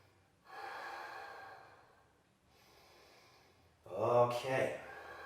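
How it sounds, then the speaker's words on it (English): Yoga breathing sounds as slow, audible breaths during a sun salutation practice, with two long soft exhalations followed by a stronger, sharper breath near the end. No words are spoken. "Breathe 2 or 3 more times."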